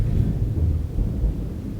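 Deep rolling thunder rumbles continuously and fairly loudly outdoors, a low sustained roar with no talk over it.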